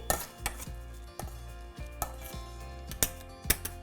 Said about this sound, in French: On écrase les topinambours en purée.